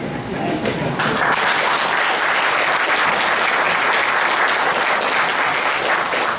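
An audience applauds after a speech, the clapping swelling within the first second into a loud, continuous wash that carries on steadily, with some voices blended into the crowd noise.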